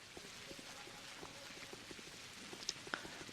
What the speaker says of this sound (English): It's always raining in this game.